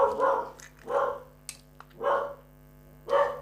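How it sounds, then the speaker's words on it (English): A dog barks four times at a steady pace indoors, each bark moderately loud and separated by short pauses, with faint clicks in between and no talking. "Oh, the dog."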